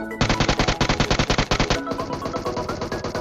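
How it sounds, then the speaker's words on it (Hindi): Automatic gunfire from the battle royale game PUBG: a rapid, loud stream of evenly spaced shots, then a denser overlapping volley from another weapon, with no voices over it. "अब फिलहाल टावर वाले बंदे जिंदा हैं जो कि देखो फायर हो रहा है"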